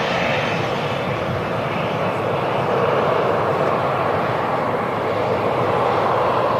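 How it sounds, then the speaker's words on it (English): A KLM Boeing 737 taxis out at Manchester Airport, its engines giving a loud, steady, broadband roar that holds evenly throughout with no voices over it. "there's the KLM 737 taxiing out"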